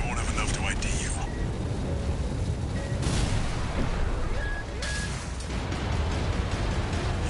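Booming blasts from the Armored Core VI: Fires of Rubicon combat game erupt in several loud bursts over a dense bed of mech and weapon noise, with voice-like sounds mixed in.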